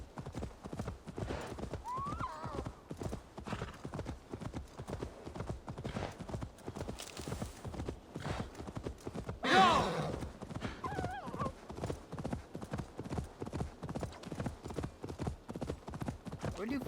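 A horse gallops in the video game Assassin's Creed Valhalla, with rapid continuous hoofbeats throughout, a brief whinny partway through and a louder swell near the middle, while a voice talks intermittently.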